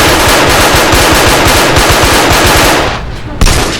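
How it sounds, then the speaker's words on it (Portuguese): Loud, rapid automatic rifle fire in a shooter video game, a continuous burst of closely spaced shots that cuts off near the end, with a voice briefly heard. "Estão atirando em mim."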